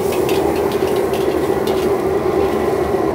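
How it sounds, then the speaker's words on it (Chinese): Diced green and red peppers and onion stir-fry in a little oil in a wok, giving a loud, continuous close sizzle with steady hissing and faint scraping of the spatula throughout. "在锅内留少许油，把青红椒粒、洋葱粒煸香"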